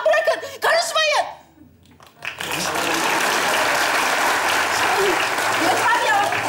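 A studio audience breaks into loud, sustained applause after a short spoken exchange and laughter on a comedy show, the clapping filling the room steadily to the end.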